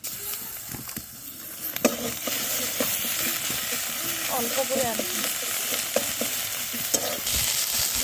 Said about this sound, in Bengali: এখন দিয়ে দেবো আদা রসুন বাটা কম করে